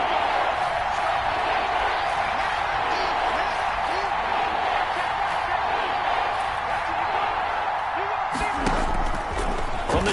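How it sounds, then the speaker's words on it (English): Virtual stadium crowd in an American football video game building a sustained roar ahead of a big third down, steady and loud throughout with a burst of noise near the end, under commentary. "the crowd getting into it as we come up on a big 3rd down"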